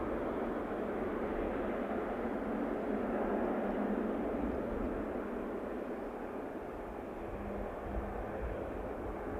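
An Air Canada Boeing 777-200 bound for Amsterdam rumbles at Toronto Pearson on a cold Christmas night, its engines giving a faint, steady, distant drone that holds evenly throughout.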